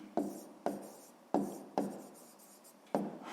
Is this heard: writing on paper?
yes